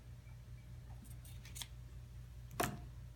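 Scissors snip through the loose tail end of fabric quilt binding, a few soft rustles followed by one sharp, close cut against a steady low hum.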